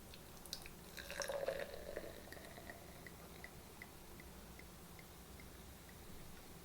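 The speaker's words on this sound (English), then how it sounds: "I'm going to pour some sparkling cider." Martinelli's sparkling cider is poured, giving soft, faint liquid dripping and fizzy trickling that swells briefly near the start and then settles into a quiet, steady patter.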